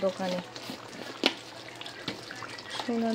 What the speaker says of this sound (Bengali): দেখি এই জল পড়ছে